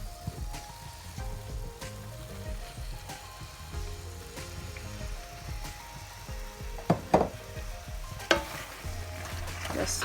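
Pasta being stirred into a smoked turkey pasta bake sauce in a hot pan, with steady sizzling and frying crackle plus a few sharper scraping clatters near the end.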